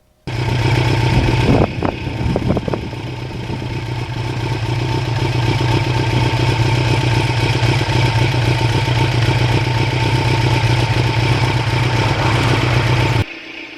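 A 32-year-old restored Kawasaki Ninja motorcycle runs on a road in North Jersey with a loud, steady engine drone and a few clattering knocks early on, continuous and close throughout.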